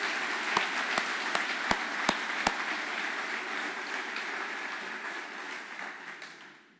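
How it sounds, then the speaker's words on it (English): An audience at a 2019 public safety awards ceremony gives a loud, sustained round of applause for honored leaders, dense clapping with a few sharp claps on top, slowly fading out near the end. "How about a round of applause for all these exceptional leaders?"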